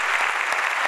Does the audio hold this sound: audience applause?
yes